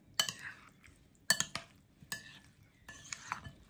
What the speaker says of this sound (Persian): به این مایه‌ای که درست کردیم اضافه میکنیم و خیلی آروم باید هم بزنیم